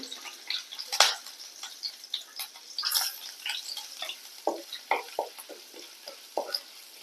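Cinnamon, a piece of ginger and several garlic cloves fry in hot oil for a potato mappas, a light crackling sizzle with frequent clicking stirs and utensil taps against the pan, close and fairly quiet, no voices.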